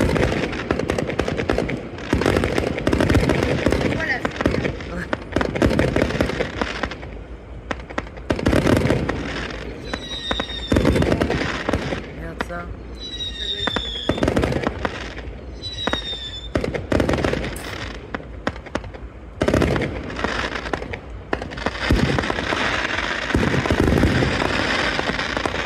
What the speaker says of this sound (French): Il y a trop de feux d'artifice.